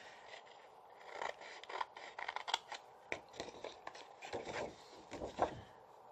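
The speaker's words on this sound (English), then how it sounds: "you will just need to cut the flap like so, wedge it a bit, and you do the other side" Scissors snip through card stock while cutting the flaps of a dome-shaped Christmas card box: a quiet, close run of short, crisp cuts and scraping paper rustles, with no talking.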